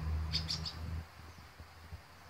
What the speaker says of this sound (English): I'm watching a mama bird feed her baby bird.